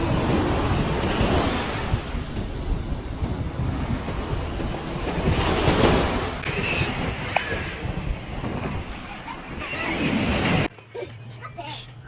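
Big ocean waves break and wash continuously onto a beach during a sunset beach day, a steady loud surf roar with wind buffeting the microphone, ending abruptly into quieter, muffled noise.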